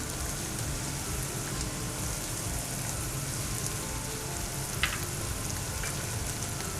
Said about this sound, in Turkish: Soğanlarımız sotelendikten sonra bir çorba kaşığı kadar unumu ilave ediyorum.